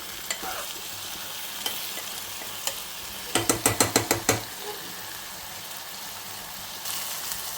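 Green chilli pieces frying in a pan while being stirred for a traditional ridge gourd and moong dal dish, a steady low sizzle broken by a quick run of sharp metallic scraping strokes in the middle.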